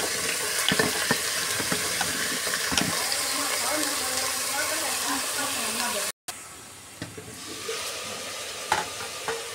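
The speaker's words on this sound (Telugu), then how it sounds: "ఇప్పుడు ఒక 2-3 నిమిషాలు బాగా వేగనిద్దాము." Carrots and beans frying in a pan for vegetable curry, a loud continuous sizzle with scraping stirs, close up, briefly cut off and then resuming a little softer.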